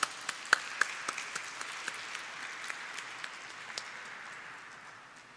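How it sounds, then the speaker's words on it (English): Audience applause at a bell ringing ceremony at the National Stock Exchange, marking 25 years of an index fund: sharp individual claps at the start swell into steady crowd clapping, then slowly fade out near the end. "Please welcome them with a huge round of applause."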